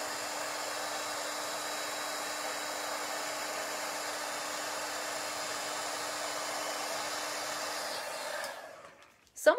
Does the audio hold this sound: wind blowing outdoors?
no